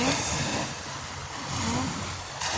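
Strong sea waves wash and surge continuously at Sharp Island in Sai Kung, Hong Kong, mixed with gusty wind noise on the microphone, loud and close. A faint voice may sit in the background.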